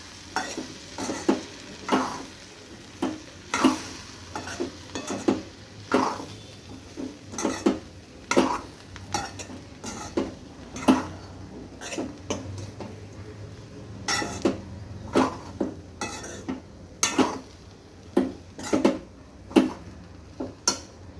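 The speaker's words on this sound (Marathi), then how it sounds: "आता हे सगळं असं व्यवस्थित मिक्स करून घेणार आहे." Crumbled bhakri being stirred into a hot tempering in a pan: steady scraping strokes of a spoon against metal in an uneven rhythm, close and clear over a soft background sizzle, with occasional light clinks.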